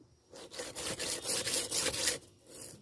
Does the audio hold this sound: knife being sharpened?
yes